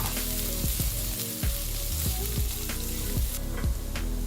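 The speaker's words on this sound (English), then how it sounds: "The ginger and garlic go in. Let's saute the aromatics until they turn a light brown and fragrant." Ginger and garlic aromatics sauté in a hot pan, giving a steady close sizzle and fry hiss with scattered clinks and scrapes of stirring throughout.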